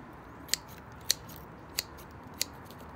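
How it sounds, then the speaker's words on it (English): Shears snipping the roots off a dug-up Monet Sky iris rhizome, four crisp, evenly spaced cuts close up, with quiet pauses between them. "you want to cut the root, and you wanted to cut it like so"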